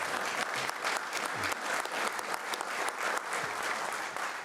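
An audience at a county commission meeting applauds a fire rescue chief, with steady, fairly faint clapping from a moderately sized crowd for several seconds.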